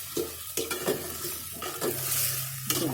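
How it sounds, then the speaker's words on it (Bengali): Meat curry stirred in a pot right after the lid is lifted, with a steady sizzle and scraping spoon strokes, plus a few louder knocks against the pot, close and alone. "5 মিনিট পরে আবার ঢাকনাটা উঠিয়ে একটু নেড়ে চেড়ে দিচ্ছি"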